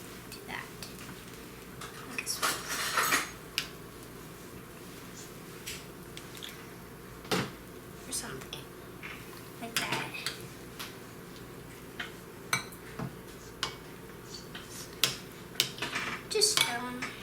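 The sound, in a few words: scooping filling into zucchini boats with a spoon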